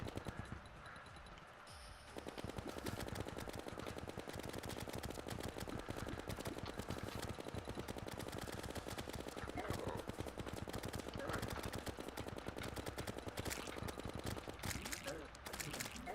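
Gunfire from a gun in the video game Terraria, a rapid, continuous stream of clicking shots that runs nearly the whole time under a player's steady talk.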